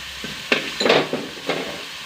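Coriander powder going into a frying pan and being stirred while cooking a Kerala-style fish curry: a few short, close scraping sizzles in uneven bursts, with no talking.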